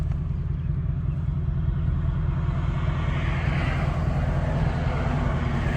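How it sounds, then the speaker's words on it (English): A 2022 Mustang GT with an X-pipe exhaust in track mode gives off a loud, continuous low rumble. The sound builds slightly in intensity midway, with no speech over it. "Now I do have it in track mode, which is the loudest mode."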